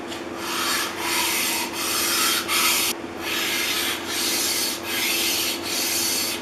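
A Stanley No. 78W duplex weather-stripping plane has its metal surfaces lapped on an abrasive, giving rhythmic back-and-forth rasping strokes, about seven even passes separated by brief pauses, close and steady.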